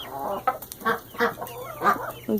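Several chickens cluck in short, uneven bursts close by, with a low hum in the background.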